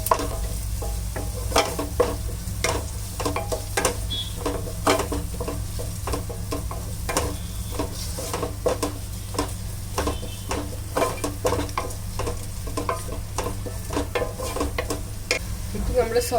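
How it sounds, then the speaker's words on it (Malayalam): Onion and whole green chillies sizzle and sauté in a pan for a pulao, with steady frying hiss and frequent scraping stirs of a spoon throughout, close and fairly loud with no talking. "ഇപ്പം നമ്മുടെ സവാള ഒന്ന് വഴന്നു വന്നിട്ടുണ്ട്."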